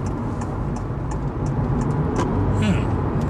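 A Honda Fit Luxe hybrid car accelerates smoothly in a passing lane, its steady engine and road noise holding a continuous mid-level drone throughout, with a faint hum rising slightly toward the end.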